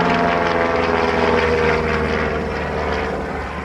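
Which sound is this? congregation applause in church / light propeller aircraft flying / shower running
light propeller aircraft flying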